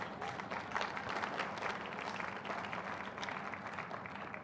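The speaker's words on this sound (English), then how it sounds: "Go ahead, clap on that." Steady applause from a sizable audience, a dense wash of clapping that holds at an even level for several seconds.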